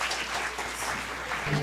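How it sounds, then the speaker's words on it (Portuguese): Dense, steady clapping from an audience at a comic hypnosis show fills the whole short stretch, moderately loud with no pause. "uma salva de palmas."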